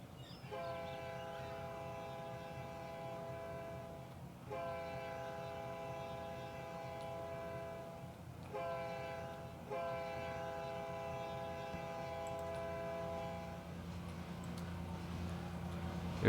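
A video game train rolls past while its horn sounds in long, steady blasts, three sustained honks separated by short gaps over a continuous rumble of wheels and engine.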